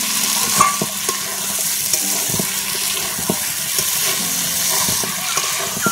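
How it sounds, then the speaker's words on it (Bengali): Chicken and fried potatoes cook in a spice paste, giving a steady close sizzle with frequent scraping and knocking stir strokes against the pan at an uneven rhythm, and no voices. "এর মধ্যে আমি দিয়ে দিচ্ছি ভেজে রাখা আলু, আলুটাও কষে যাবে একসঙ্গে।"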